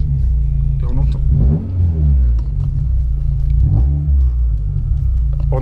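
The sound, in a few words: car engine starting and revving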